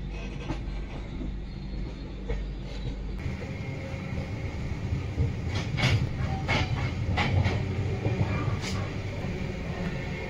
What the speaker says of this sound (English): This is a very well maintained train.